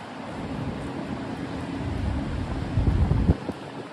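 Gusty wind buffets the microphone outdoors on a New York City street as rain starts, a constant low roar that swells briefly louder near the end.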